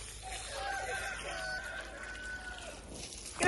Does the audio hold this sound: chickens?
yes